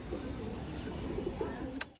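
Aggressive pigeons coo in a short series of soft, low throaty calls, close by, ending with a brief sharp rustle.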